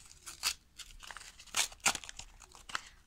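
Paper surprise packets being torn open and crinkled by hand, in a run of sharp rips and crackles, close and fairly quiet, with no talking.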